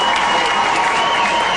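Hockey crowd at an ice rink roaring and applauding after a big hit during a Steamboat Sailors versus Aspen game, a loud, dense, steady wash of cheering and clapping throughout.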